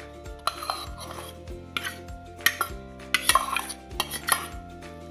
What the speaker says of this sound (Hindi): मैं इस चावल को चमचे के सहारे से इसको थोड़ा सा महीन कर लेती हूँ, थोड़ा मिक्स कर लेती हूँ एक साथ